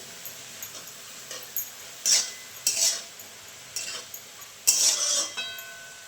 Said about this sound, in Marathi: मीठ टाकून परत एकदा व्यवस्थित हलवते